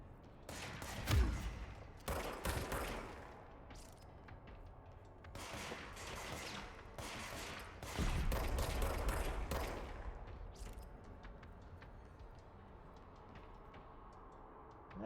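Gunfire in the video game Control, as rapid bursts of shots crackling in dense clusters with brief pauses between volleys, loud and continuous, no voice over them.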